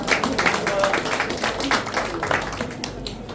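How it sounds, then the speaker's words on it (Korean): Scattered clapping from an indoor crowd at a Korean political support-declaration event, greeting an arriving association president; moderate, uneven applause with voices murmuring underneath. "큰 박수 부탁드립니다."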